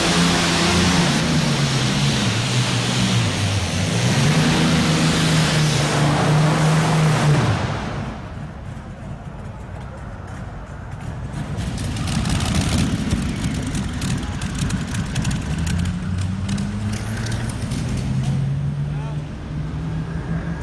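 A modified pulling tractor at a 1998 NFMS tractor pull in Louisville, Kentucky, the River Rat driven by Wayne Longnecker, roars loudly with a rising, falling engine howl that dips midway and then surges again, with voices heard alongside.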